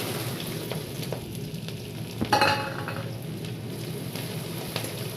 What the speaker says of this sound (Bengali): তেলের মধ্যে আমি পেঁয়াজ আর লঙ্কাটা দিয়ে দিচ্ছি।